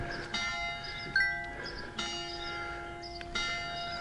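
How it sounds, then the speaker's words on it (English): Church bells ring out from a nearby tower in steady repeated strikes with long sustained overtones, fairly clear and outdoors with light background ambience. "There's the bells up there."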